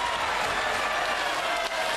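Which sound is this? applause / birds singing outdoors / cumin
applause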